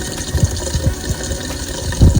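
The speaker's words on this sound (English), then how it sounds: "I'm just going to run it in some hot water real quick" Hot water running from a kitchen tap over an egg held under the stream, a steady close hiss and splash with a few gurgling pulses, heard alone.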